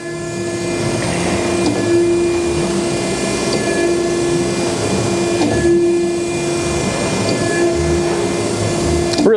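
An Okamoto ACC-1624DX high-precision 16 by 24 inch surface grinder runs with feed engaged, giving a steady, close machine whir with a constant tonal hum and faint periodic swells as the table moves.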